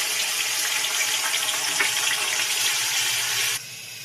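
Onion paste hits hot oil with dry red chilli, whole spices and black cumin, a loud dense sizzling hiss that drops to a softer steady fry in the last half second.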